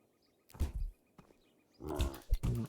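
Pig grunting and roaring in the multiplayer fantasy video game Swords 'n Magic and Stuff, a loud burst followed after a pause by two more close, growling grunts.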